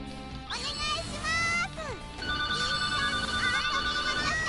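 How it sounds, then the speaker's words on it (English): A mobile phone rings with a bright, repeating electronic ringtone, loud and close, playing over game sound effects throughout. "Why is my phone ringing? That's annoying."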